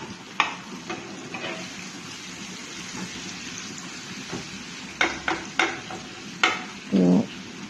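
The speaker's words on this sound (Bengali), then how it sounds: "আস্তে আস্তে মশলাটা প্রায় অনেক ভাজা হয়ে গেছে" Spice paste frying for a taro-leaf curry sizzles steadily in a pan while a spoon scrapes and stirs it in short, scattered strokes, growing busier near the end; no one speaks.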